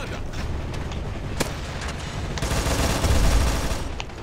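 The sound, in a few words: grenade explosion and gunfire in video game CrossFire X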